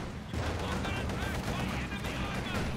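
Rapid, dense gunfire rattles at a house in Company of Heroes 2, a loud continuous volley of overlapping shots in a World War II strategy game battle.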